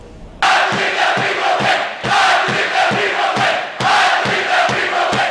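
A large crowd at Utah State chants the "I Believe" cheer in loud, rhythmic unison, with repeated swelling phrases punctuated by sharp accented beats.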